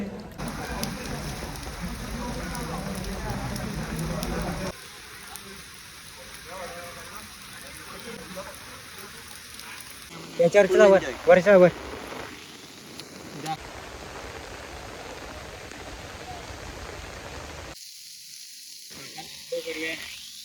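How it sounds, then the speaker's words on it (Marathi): Steady rain falls during the first monsoon rain of 2026 near a hot-water spring pool in Sativali, a constant hiss with brief louder splashing bursts midway. "पाऊस सुरू आलेला आहे कधीच"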